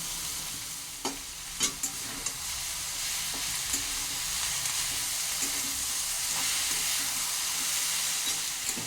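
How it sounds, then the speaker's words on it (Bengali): Eggplant, pumpkin and potato stir-fried with ivy gourd leaves sizzle softly and steadily in a pan, punctuated by several sharp spatula scrapes and taps early on. "তেলাকুচা পাতা দিয়ে এটাকে আমি তিন থেকে চার মিনিট ভালো করে নেড়ে চেড়ে রান্না করলাম"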